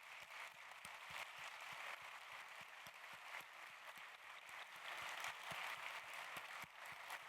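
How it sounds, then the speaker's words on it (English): A faint, steady round of applause rises from a conference audience honouring a retiring colleague, with distinct individual claps heard throughout and no talk over it. "I would like us to give him a round of applause."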